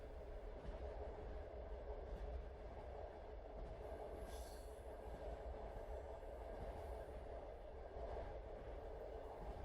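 A train carriage rolls steadily along the rails with a constant low rumble and faint rhythmic clatter, plus a brief metallic squeal partway through.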